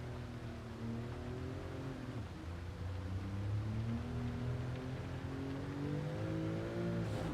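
A race car in Gran Turismo 7, driven through a licence test, drops through the gears under heavy braking into a turn, its engine note falling and rising in steady harmonic sweeps, moderately quiet and continuous with no talking.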